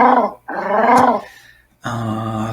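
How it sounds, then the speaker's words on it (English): A cartoonish dog growl sound effect for a Scratch animation, triggered by a key press, heard in three close bursts with a brief pause before the last, loud and alone. "dog growls."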